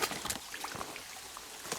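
Water of a small creek flowing over brickwork after a major rainstorm near Springwood Falls, a soft steady broadband rush with faint trickling detail, quiet and continuous throughout.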